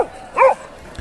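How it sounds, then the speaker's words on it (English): A single short bark from a Boxer dog, fairly loud and close, standing alone between quieter moments in an old recording. "I remember this recording of him barking"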